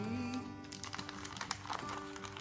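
Wrapping paper is folded over and creased along a gift box edge, making close, steady crinkling and rustling with small crisp snaps throughout, over faint background tones.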